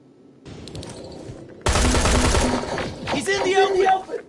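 Soldiers open fire on a target in a siege scene, a sudden loud burst of rapid automatic gunfire that rolls on for a few seconds after tense voices. Shouting breaks through near the end.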